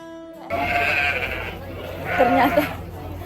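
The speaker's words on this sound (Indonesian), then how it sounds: "Ternyata kambing bule pun suara mengembek mereka pun sama." Goats at a livestock market bleat in two drawn-out, wavering cries close by, one after the other, with faint background noise.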